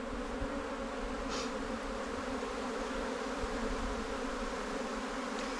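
Honey bees in an open hive during a December inspection on a ranch make a dense, steady buzz that is close and constant, with no break and no voices.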